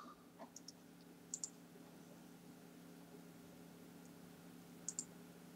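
Two quiet pairs of mouse clicks, one near the start and one near the end, each a sharp double tick, over a faint steady hum of a computer desk with no talking.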